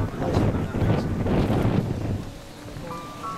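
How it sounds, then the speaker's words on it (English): Wind at Zaanse Schans, the Netherlands, gusts and rumbles against the microphone, loud at first and easing off, with faint tonal sounds near the end. "The wind is moving all this."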